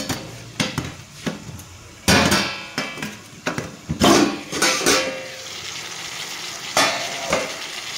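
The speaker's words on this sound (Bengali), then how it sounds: "নাড়ি চেড়ে দেখবো সবজিটা" Vegetables stewing in a spiced masala in a pot for a light fish curry with stalks get stirred and scraped around in irregular bursts, with soft sizzling between the strokes.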